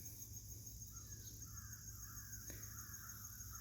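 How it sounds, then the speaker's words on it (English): A few crows caw from a distance on a farm, several harsh calls strung together above a steady background of insect buzz. "I hear the crows."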